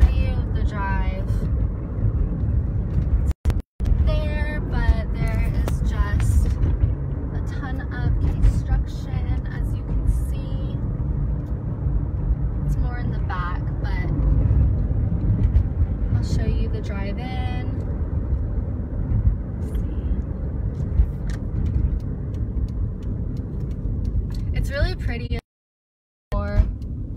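A car drives steadily through a new-home neighborhood in Village 5, North Natomas, with a continuous low road and engine rumble close to the microphone and a person talking over it almost throughout.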